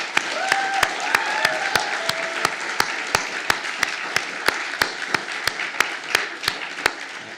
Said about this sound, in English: asking people to put a round of applause together for Regan Jackson